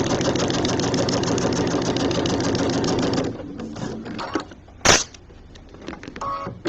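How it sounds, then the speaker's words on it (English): A sewing machine stitches through vinyl in a fast, steady run of rapid mechanical clicks for about three seconds, then stops, followed by scattered handling noises and one sharp clack. "So I'm kind of sewing from the back right now."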